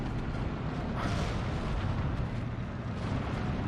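An incendiary strike in the World War II strategy game Steel Division 2 makes a continuous, heavy, rumbling roar with a brief crackling burst near the start, dense and loud throughout.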